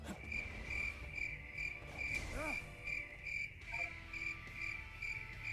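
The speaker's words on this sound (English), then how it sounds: "Did we really need to add a cricket sound effect?" Cricket sound effect in the Shadow Generations video game, a steady high chirping pulse repeating in even rhythm, quiet, with brief soft game sounds underneath.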